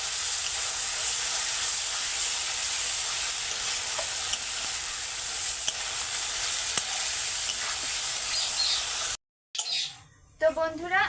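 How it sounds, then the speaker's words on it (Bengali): Gobindobhog rice fries with spices and jackfruit in a pan, making a continuous hissing sizzle with light stirring. Near the end it cuts out briefly before louder, rougher sounds return. "ভালো করে এই মশলার সাথেই আমি চালটাকে ভেজে নেবো"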